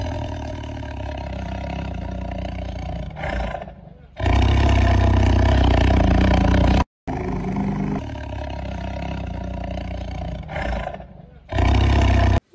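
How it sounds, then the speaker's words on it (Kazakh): A tiger growls and roars in loud, sustained bursts, with short pauses between rumbling calls and no other sounds around it. "Бұл жолбарыс. Жолбарыс ырылдайды."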